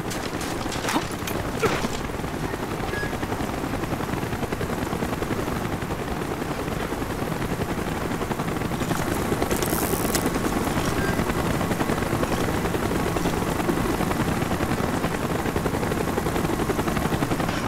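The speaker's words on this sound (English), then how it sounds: "Chopper's inbound!" A helicopter's rotors thump steadily and loudly throughout, with a few scattered gunshots early on in a busy Call of Duty: Black Ops battle soundscape.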